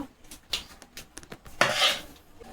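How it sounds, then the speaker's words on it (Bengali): Plum pickle is scraped from a pan onto a plate, producing a series of close metallic clinks and scrapes of a utensil against cookware, ending in a longer scraping rush, with no voices. "এবার এটা নামিয়ে থালাতে ঢেলে নেব ঠান্ডা করার জন্য।"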